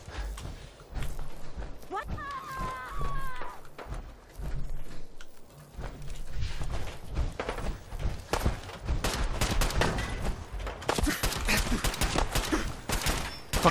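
Enemy gunfire in Fallout 4's Nuka World, bursts of fusillade and machine-gun shots cracking repeatedly through the second half over game ambience, with a brief musical tone early on.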